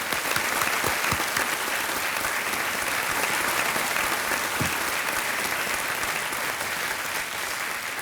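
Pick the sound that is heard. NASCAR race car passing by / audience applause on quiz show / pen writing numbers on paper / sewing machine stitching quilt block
audience applause on quiz show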